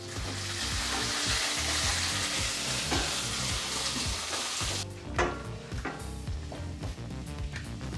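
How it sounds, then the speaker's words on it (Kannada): Onions fry over a medium flame for sambar, a dense, loud sizzle with stirring scrapes in the pan that thins out partway through to lighter crackling, close up and without talk. "ಈ ರೀತಿ ಈರುಳ್ಳಿನೂ ಸೇರಿಸಿದ ನಂತರ ನಾವೊಂದು 2 ನಿಮಿಷಗಳ ಕಾಲ ನೀಟಾಗಿ ಮೀಡಿಯಂ ಫ್ಲೇಮಲ್ಲೇ ಫ್ರೈ ಮಾಡ್ಕೋಬೇಕಾಗತ್ತೆ"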